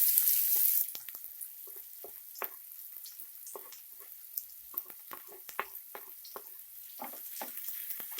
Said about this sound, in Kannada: ಒಂದು ನಿಮಿಷ ಫ್ರೈ ಮಾಡ್ಕೊಳ್ಳಿ ಇದನ್ನ, ಈರುಳ್ಳಿನ.